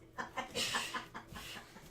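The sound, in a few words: chicken clucking in a bathroom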